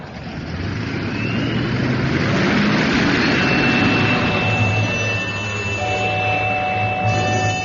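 A steady, loud aeroplane jet engine roar with a high whine fills the whole stretch, swelling slightly midway and holding close throughout.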